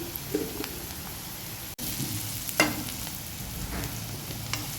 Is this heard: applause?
no